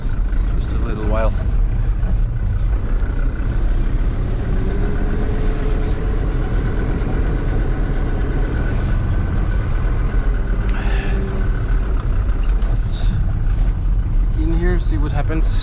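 A Fiat farm tractor's engine drives a snow blower, giving a loud, steady diesel drone throughout with some mechanical clatter and rattles on top.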